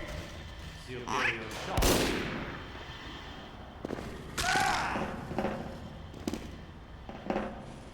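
Gunfire and explosive blasts in the Team Fortress 2 video game crack out in scattered bursts, a few loud sharp shots among game effects, with voices speaking in between.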